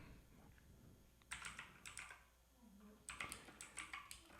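Typing on a computer keyboard while C code is written. It comes in two quick bursts of close, clicky keystrokes with a short pause between them, over a faint background hum.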